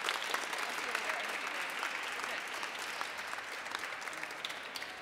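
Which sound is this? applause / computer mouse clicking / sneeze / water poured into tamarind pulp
applause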